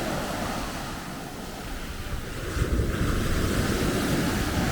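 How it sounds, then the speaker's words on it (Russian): Surf breaking on a beach in Spain on a summer morning, a steady broadband roar of waves that swells louder partway through, with wind buffeting the microphone and no voices. "О, волны нарастают."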